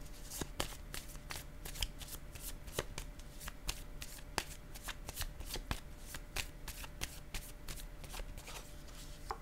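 A deck of tarot cards is shuffled and cut by hand, making crisp, rapid flicks and snaps in a steady, close-up rhythm with no talking.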